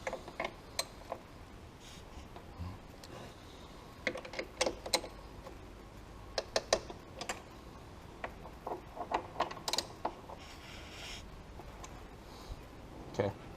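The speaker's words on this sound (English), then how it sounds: "Now I'm going to give all of them just a snug half turn and they'll be torqued" A ratchet snugs throttle body bolts on a GM truck, with sparse, irregular sharp clicks of varying loudness over a quiet background.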